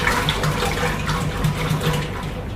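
Sugar syrup poured into a bee feed mix for pollen patties, heard as a steady, fairly loud liquid stream that runs without a break and has no speech over it.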